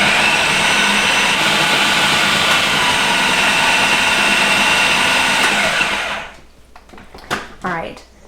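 A kitchen blender whirs loud and steady, mixing berries and cottage cheese into a purple whip, then shuts off after about six seconds, leaving a few soft clicks and handling noises.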